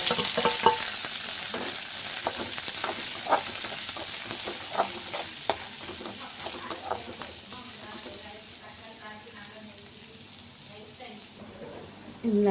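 Onions, curry leaves and mustard seeds frying in a hot pan, a close crackling sizzle with stirring clatter that thins out toward the end, while a voice talks intermittently over it.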